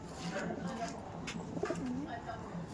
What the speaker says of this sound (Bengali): শর্ট সাইজের পায়রা, লেগটা দেখো।